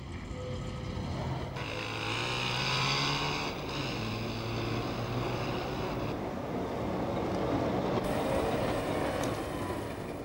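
A tram work car passes at Georgplatz on a city tramway, giving a continuous rolling rumble with squealing, whining tones from the wheels and motor, loud and close throughout.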